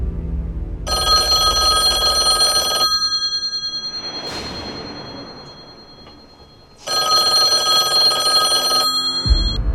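A telephone bell rings loudly in two long bursts separated by a short gap, a classic ringing effect for a phone call placed from the Indian Prime Minister's office to Pakistan, with no talking.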